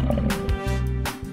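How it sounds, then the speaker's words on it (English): A cartoon lion lets out a brief, loud, growling roar with a rough, throaty rumble that lasts little more than a second. "Lion,"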